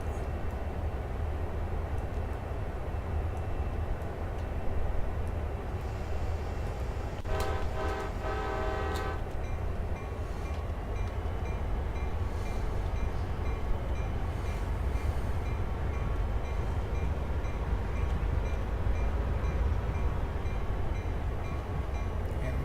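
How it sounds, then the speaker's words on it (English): A train runs in a train simulator game with a steady, low rolling rumble throughout and a brief horn toot near the middle. No one speaks. "I'm just going to be running my train through it."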